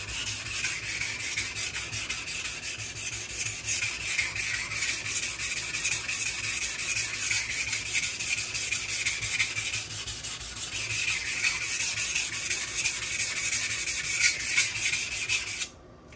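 A knife is drawn across the stone of a Buck Honemaster in repeated rasping sharpening passes, a steady scraping texture that pulses gently in rhythm and runs until it stops abruptly at the end.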